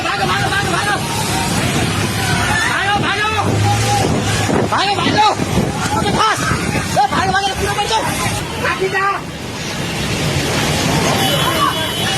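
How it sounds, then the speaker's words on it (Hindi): Flash-flood water rushing through streets in Nepal, a loud, continuous wash of turbulent water with people's voices shouting and calling over it from start to finish. "देखते ही देखते पलक झपकते ही सैलाब का पानी सड़कों तक जा पहुंचा"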